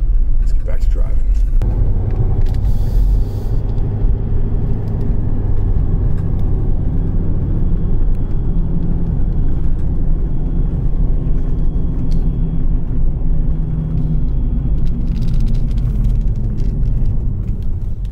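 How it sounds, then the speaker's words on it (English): Car driving on the road, a steady loud low rumble of engine and tyre noise from inside the cabin throughout, with a brief burst of louder noise near the start. "so let's get back to driving."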